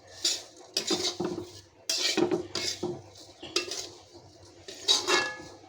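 Vermicelli (semai) being stirred as it fries in a pan, heard as a run of close, distinct metal spatula scrapes and clinks against the pan at an uneven rhythm, with little sizzle.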